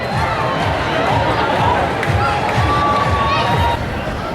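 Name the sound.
crowd of people cheering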